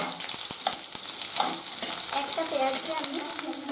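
Chopped onion sizzles and crackles steadily in hot oil seasoned with black cumin, a continuous close frying hiss with light stirring scrapes throughout.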